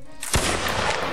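A sharp, loud shot cracks out over ongoing rattling volleys in a line battle video game, followed by a sustained wash of overlapping gunfire.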